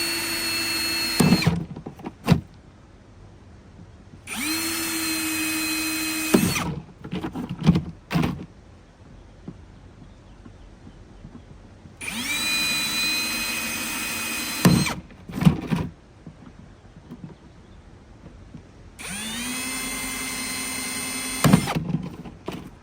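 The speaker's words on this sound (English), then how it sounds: "Forgot I need to drill holes in these." A power drill bores holes into a window box in four separate bursts, each a whining motor pitch that rises and holds for a couple of seconds before stopping, with quiet handling clatter between them.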